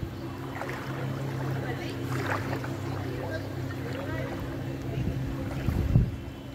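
A vehicle moves slowly through flood water on a street in Phuket Town, giving a continuous washing, sloshing wash with wind buffeting the microphone and a louder surge near the end.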